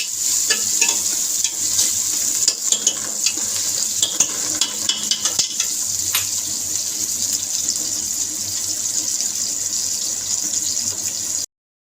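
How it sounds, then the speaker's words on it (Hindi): Loud, steady sizzling of ginger garlic paste frying in a hot pan, with scraping stir sounds and crackles up close, ending abruptly. "लहसुन अदरक का जो मैंने पेस्ट डाला था वो भी फ्राई हो गया"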